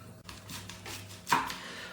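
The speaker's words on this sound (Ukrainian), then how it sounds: "Тож мілко нарізаємо кропчик." A knife finely chopping fresh dill on a board, with a few soft, close taps spread across a short stretch and one sharper, louder cut near the end.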